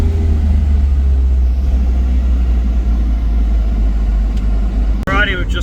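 Stock Mazda Miata cruising on the road, a loud low engine rumble and droning cabin noise throughout, ending with a brief sharp knock and a higher whine near the end.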